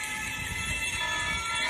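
A phone alarm rings steadily in a room, set for early morning jogging, its buzzing tone continuous and fairly loud throughout with no talking.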